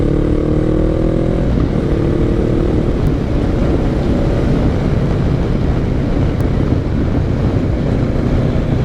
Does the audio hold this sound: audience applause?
no